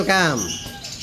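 A single bird call, a short descending chirp, sounds close and clear at the start, then fades into a quiet background.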